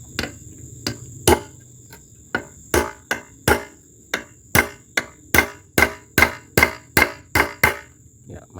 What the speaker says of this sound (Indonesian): Tapi akan saya coba ini dengan palu 3/4 LB ya.